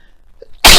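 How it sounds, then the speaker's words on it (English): A single sharp, explosive sneeze bursts out loudly after near silence, close to the listener. "I just felt that sneeze come on"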